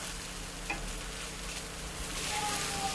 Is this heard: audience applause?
no